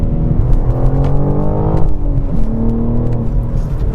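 BMW G82 M4 with the S58 twin-turbo inline-6 engine accelerating: a loud, steady, close engine drone with rising harmonics that climbs in pitch, briefly eases, then rises again, with no talk over it.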